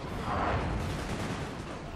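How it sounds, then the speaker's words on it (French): Cannon artillery in the Napoleon Total War video game rolls out as a dense, rumbling barrage of distant booms and crackling fire, loud and continuous without clear pauses. "Un canon qui ne bougera pas, mais il fait de gros dégâts"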